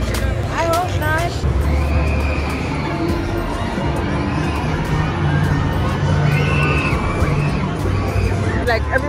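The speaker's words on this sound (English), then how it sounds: "everyone in front here is having fun and they're screaming" Screams ring out from riders on a fairground ride at a state fair, mixed into a loud, steady crowd hubbub with children shouting and cheering, heard up close from among the riders.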